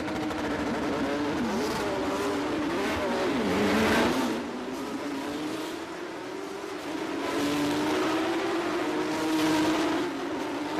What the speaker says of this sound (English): And they all can enjoy now the wonderful sound of the GT3 Cup car.